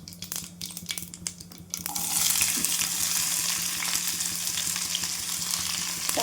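Mustard seeds and cumin crackle and pop in hot oil for a besan bhurji, a dense, close patter of small bursts, and then onion goes in and raises a loud, steady hiss that carries on to the end.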